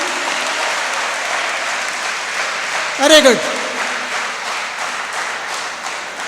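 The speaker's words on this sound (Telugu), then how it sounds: "క్లాప్స్ ఎక్కువ వద్దు" An audience at a study skills session claps steadily in a large hall, a dense, even applause that continues throughout while a voice briefly speaks over it midway.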